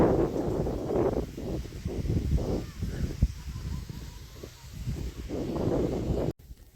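Wind gusts across an open farm field, a steady low rushing roar that swells and eases in waves, with faint bird calls in the distance and no voices.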